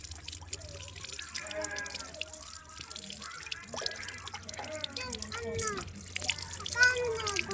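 Water from a tap running into small Holi water balloons, with trickling, bubbling and dripping sounds in uneven bursts and people talking over it.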